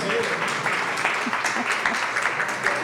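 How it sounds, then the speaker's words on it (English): An audience gives a steady round of applause at a community conversation gathering, dense clapping that holds at an even level for the whole stretch, with a few voices mixed faintly underneath. "Another round of applause."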